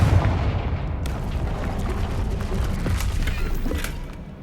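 Confringo explosion spell cast in a Harry Potter video game, a rumbling, crackling blast with debris clatter that fills several seconds before slowly fading.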